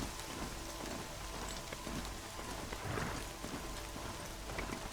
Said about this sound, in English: Wish it weren't raining, though